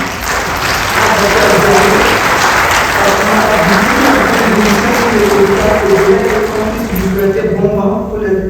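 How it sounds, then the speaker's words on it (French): A loud, steady burst of audience applause at an official event in Togo, dense clapping holding evenly for several seconds before thinning near the end. "qu'on fasse un petit vent d'applaudissements"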